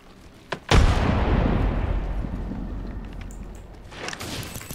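Frag grenade detonating in an Apex Legends match, one sharp loud boom after a brief click, followed by a long rumbling decay and faint scattered sounds.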